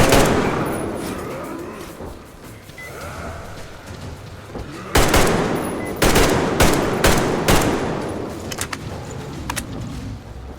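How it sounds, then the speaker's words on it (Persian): Automatic weapon fire in the video game Metro Exodus: a loud rattling burst of rapid shots comes in midway and then breaks into several shorter bursts over a steady game background. "دیگه بریم برای تیر آخر. اسلحه اتوماتیک."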